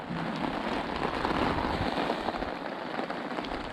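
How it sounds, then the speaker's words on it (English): Heavy rain pours steadily beside the River Swale, a dense, continuous hiss of drops hitting water and surfaces close by, with no one speaking. "Getting a bit savage, this rain."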